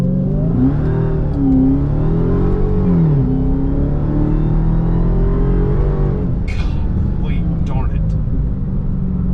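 A 2022 Dodge Charger Hellcat in auto mode, floored from about 15 mph, its supercharged engine roaring and climbing through a gear change while someone talks over it from inside the cabin.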